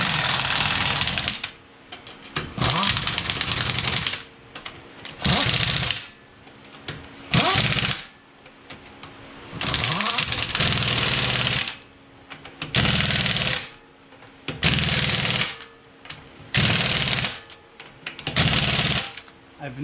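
A heavy-duty impact wrench on its lowest setting hammers in repeated loud bursts of about a second each, separated by short pauses, while working on the wheels of a 2010 Ford Taurus SHO.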